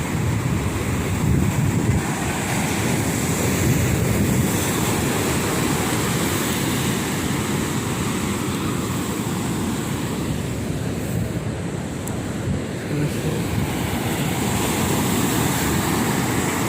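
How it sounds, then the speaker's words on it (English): Ocean surf rolls steadily onto a remote seashore along the East Coast Road near Chennai, a continuous loud wash of breaking waves mixed with wind buffeting the microphone, with no voices. "Hope you enjoyed the waves."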